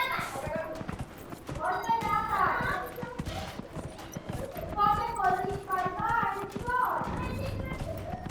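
Horse hooves clip-clopping at a steady trot in the video game Dragon Age: Inquisition, heard beneath someone talking almost throughout.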